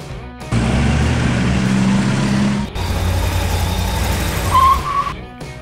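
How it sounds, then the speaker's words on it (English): A refrigerated truck rumbles by with a steady engine drone and low growl. Partway through the tone shifts, and a brief higher whine rises near the end before it fades. "Refrigerated truck!"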